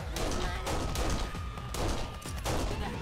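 Rapid gunfire from the video game Kane and Lynch, dense overlapping bursts and single shots filling the whole stretch, loud and continuous with brief dips between volleys.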